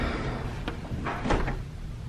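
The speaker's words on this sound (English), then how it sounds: "Let me close the door, and you you'll hear nothing." A hearing test booth door swinging shut, giving a few soft muffled knocks and a brief latching thud against a steady low room hum, fairly quiet and close.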